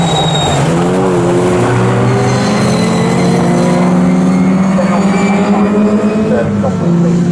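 Pre-1963 race cars racing at Snetterton circuit, a loud continuous engine roar whose pitch climbs and shifts as the cars accelerate through and past, with a commentator talking over it throughout.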